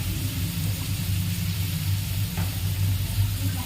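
Chillies fry in a pan with a steady, dense sizzle and low rumbling hiss, continuous and fairly loud with no voices over it.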